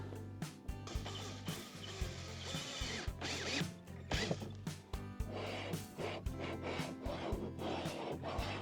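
A DIY sliding table in a campervan is worked back and forth, giving repeated close wooden knocks, scrapes and ratchety mechanical clicks in an irregular rhythm.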